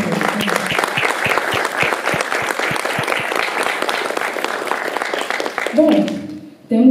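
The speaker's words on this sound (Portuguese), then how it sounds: "eu quero pedir uma salva de palmas para essa equipe que cuida desse lugar" Audience applause breaking out after a request to honor the team that maintains the venue at a talk event, steady clapping from a crowd for about six seconds before it fades and a voice resumes.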